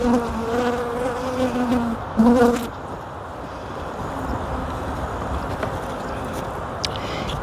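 Honeybees buzz densely and continuously around an open hive during a beekeeping inspection, heard up close, with a few louder individual bees passing nearby and faint handling sounds.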